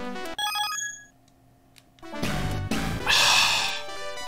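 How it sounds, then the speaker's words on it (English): A short ringing phone-style notification tone sounds in the game TMNT The Hyperstone Heist, a clear melodic bell pattern at the start, followed by louder noisy game sound effects and crashes. "Yeah, I've been getting a lot of notifications lately."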